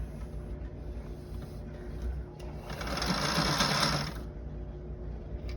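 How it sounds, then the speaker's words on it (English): A Sailrite sewing machine stitches cockpit cushion fabric, its motor whirring steadily and rising into a louder, faster run in the middle before easing back down. "This is a Sailrite sew machine."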